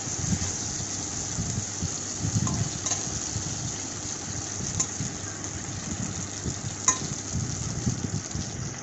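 Eggplant slices fry in a pan with a steady crackling sizzle, broken by occasional light clinks as the slices are turned over.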